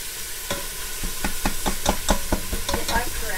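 A meat masher chops ground meat cooking in a pan, making a rapid series of sharp scraping knocks against the pan over a steady sizzle.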